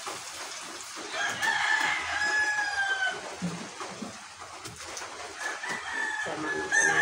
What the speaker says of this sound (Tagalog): Yan ang pinaka-sounds dito. Ingay ng manok.